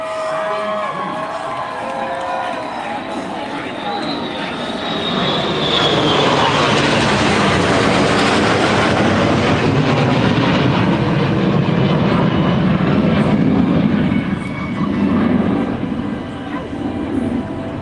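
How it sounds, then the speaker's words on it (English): An AC-135 tanker aircraft passes overhead during a Fourth of July event at Magic Kingdom, a loud rising jet roar that swells and holds for several seconds before easing, with crowd noise and cheering beneath. "An AC-135 tanker will carry up"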